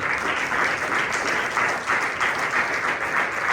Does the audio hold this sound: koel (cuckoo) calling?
no